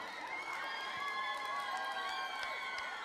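Festival audience at a children's carnival song contest cheering and clapping, a steady, dense crowd roar with a few higher whoops rising above it, continuous and fairly distant.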